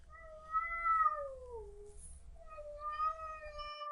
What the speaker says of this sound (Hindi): बिल्ली के रोने की बहुत भयंकर आवाज आ रही थी।